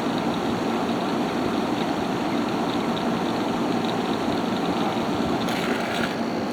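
A Haier ESA410J-RGB 10,000 BTU window air conditioner runs with a steady, even fan whoosh and a faint constant high whine, unchanging throughout with no talking.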